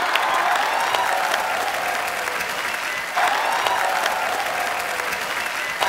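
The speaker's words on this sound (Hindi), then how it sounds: "तो जोरदार तालियों से स्वागत कीजिए मीत ब्रदर्स का।" Studio audience applause on a TV comedy talk show, a steady loud roar of many hands clapping continuously, with a brief surge partway through and no talk over it.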